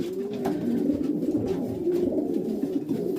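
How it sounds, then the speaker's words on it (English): Pigeon cocks cooing together inside a loft cage, a steady close chorus of soft throaty coos that continues throughout with no talking. "the spare cocks are just like sitting in the cage and cooing about with each other"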